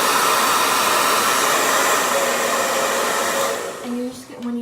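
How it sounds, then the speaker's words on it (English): A blow dryer running on its cold setting blows a steady, loud whooshing hum up close, which wavers and dips as it is moved near the end. "Plug in my blow dryer. Turn it on cold."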